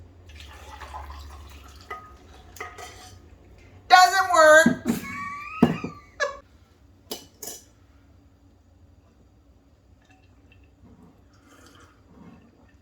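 Liquid pours and drips into a container in a few short bursts, with clinks of the vessel, and a person speaks briefly nearby.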